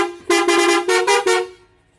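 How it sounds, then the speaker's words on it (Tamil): A GSM bus horn honks in several loud, bright, musical blasts, a short stuttering burst followed by two longer tones that cut off cleanly. "ஸோ ஒரு ஹார்ன் வந்து நம்ம வந்து பக்காவாக அடிக்க போகிறோம்."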